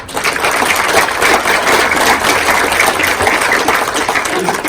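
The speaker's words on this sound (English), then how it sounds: "So please give him another round of applause." Wedding guests give the groom a round of applause during his brother's best man speech: dense, steady, loud clapping that fills the whole stretch without a break.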